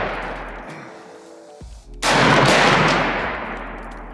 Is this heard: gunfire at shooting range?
yes